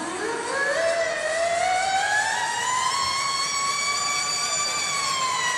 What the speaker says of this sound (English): The siren sounds at McMorran Place.